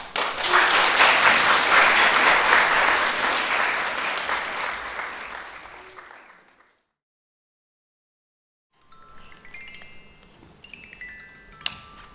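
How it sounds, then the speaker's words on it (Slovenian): Audience applause at a regional school theatre festival, loud and dense for about six seconds before fading into silence, followed by quiet instrumental music with faint ticking. "Zdaj pa čisto tiho zaploskamo in uživamo."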